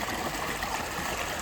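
Water in a small river, or çay, near a lake in the Quba-Khachmaz area flows with a steady, even rushing and babbling, close and continuous, with no voices over it.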